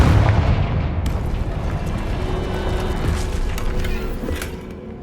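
Confringo blasting-spell explosion in Hogwarts Legacy: a loud low boom at the start, then a rumbling, crackling tail with scattered debris sounds that slowly fade over several seconds.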